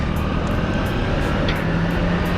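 Kawasaki Ninja 250 Fi motorcycle engine heard while riding, a steady, loud droning hum with wind rush that holds constant for the whole short stretch, with no talking.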